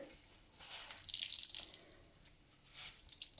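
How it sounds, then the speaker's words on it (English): Water dripping and splashing into a sink as soaked tie-dye fabric dyed with ice and Procion pigment is wrung out, in a few uneven bursts with no talking. "we want to wring out as much of that water as we possibly can"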